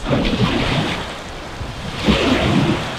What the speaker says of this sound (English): the wave is really loud, crashing against